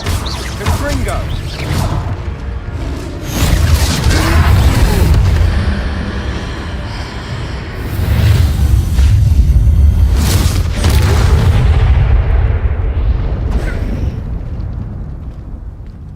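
A Confringo spell blast in the video game Hogwarts Legacy during a troll fight, heavy booming explosions that rumble and swell in waves, with voices calling out over them.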